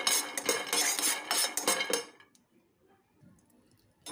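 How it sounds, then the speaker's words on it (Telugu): Half a cup of peanuts dry-roasting in a pan, rattling and scraping busily for about two seconds before the clatter stops and only faint low noise remains. "హాఫ్ కప్పు పల్లీలు కొంచెం వేయించుకోవాలి"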